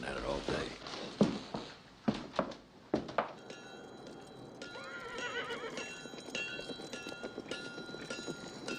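Horses arriving at a homestead, hooves clip-clopping in a steady rhythm at moderate distance, with a horse neighing and voices talking over them in an old Western setting.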